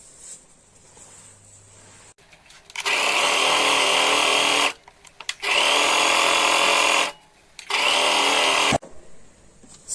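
A sewing machine stitches the sides of a sling bag made from waste material, running in three loud, steady whirring bursts with short quiet pauses between them.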